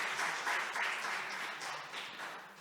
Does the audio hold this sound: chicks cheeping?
no